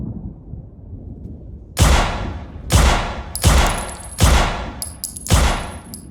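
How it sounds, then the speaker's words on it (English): Five loud layered gunshots in an indoor setting of an open-world FPS game, each followed by a long echoing reverb tail, fired at a steady uneven pace after a moment of low rumble. "So I layered a few gunshot sounds together and added loads of reverb in Audacity for the indoor ones."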